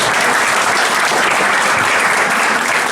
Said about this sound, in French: Applaudissez-les encore, s'il vous plaît.